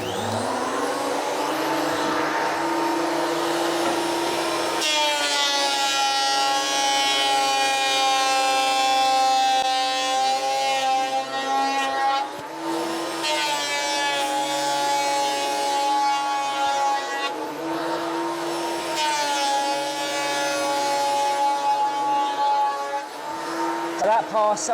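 A Makita 2012NB thicknesser planing wood, a loud sustained high-pitched whine with harmonic tones as boards feed through in several passes, pitch dipping as the cutter bites, close and continuous.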